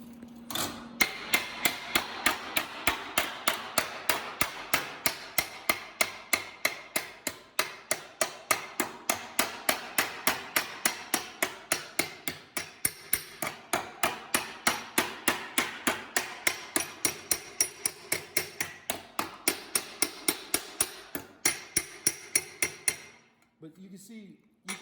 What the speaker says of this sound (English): when you start shaping, you have that post dolly and a hammer